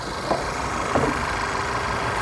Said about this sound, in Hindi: तो एक बार दिखा देता हूँ आपको इसका इंजन।